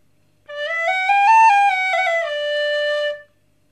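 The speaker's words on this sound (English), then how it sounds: "I realized that I can try to learn the Irish whistle" An Irish whistle plays a single sustained phrase of about three seconds, bright and breathy, rising then falling in pitch with a small bend midway, close and alone.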